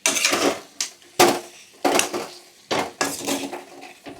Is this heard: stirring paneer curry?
yes